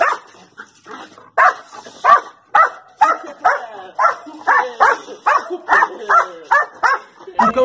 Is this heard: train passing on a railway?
no